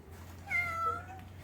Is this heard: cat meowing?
yes